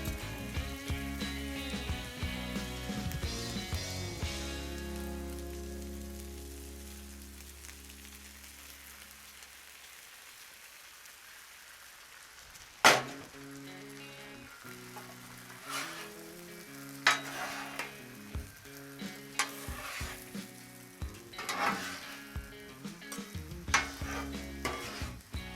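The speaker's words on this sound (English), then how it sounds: "Now let's get our eggs on." Scrambled eggs frying on a Blackstone griddle: a steady sizzle with scraping and stirring from a spatula, irregular clicks and taps against the flat metal top, close and moderately loud.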